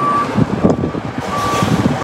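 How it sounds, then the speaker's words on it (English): Loud truck on a street in Milwaukee, its engine rumbling close by while reversing beeps sound twice as long steady tones. "this truck is so loud"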